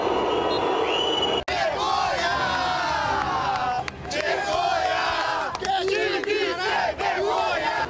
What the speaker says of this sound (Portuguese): No final, vaias dos jogadores e protestos.